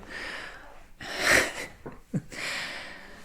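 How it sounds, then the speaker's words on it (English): A man in deep sleep snores softly, giving a few breathy, snorting inhales and exhales with quiet pauses between them. "Yeah, he's snoring."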